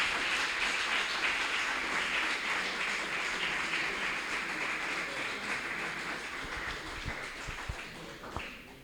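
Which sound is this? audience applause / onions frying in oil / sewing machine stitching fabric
audience applause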